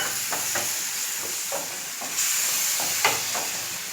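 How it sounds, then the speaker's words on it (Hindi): Garlic, ginger and green chili paste frying in hot oil with browned onions sizzles in a steady close hiss, with soft stirring scrapes recurring throughout and a brief louder flare of sizzling partway through. "अब मैं इसमें लहसुन अदरक हरी मिर्च का पेस्ट डाल दूंगी"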